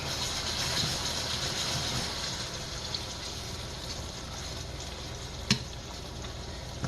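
Onion, garlic and spices sizzle in a pan on a stove turned to high, a steady close crackling hiss with a single sharp clink partway through.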